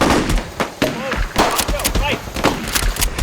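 Toy Nerf blasters fire rapidly in a forest skirmish, a dense loud clatter of shots overlapping with shouted voices.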